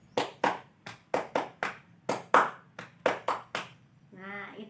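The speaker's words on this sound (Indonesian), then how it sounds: "kita ulangi lagi ya tepuk kecerdasan tadi" A fourth-grade class claps out the tepuk kecerdasan routine in unison, sharp crisp hand claps in a patterned rhythm of pairs and runs, close and loud, ending with a brief voice.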